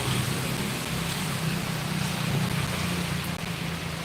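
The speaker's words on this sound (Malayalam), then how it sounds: "നല്ല മഴയായിട്ടോ വലിയ മഴയായി" Heavy rain pouring down, a dense, unbroken roaring hiss at constant loudness with no pauses.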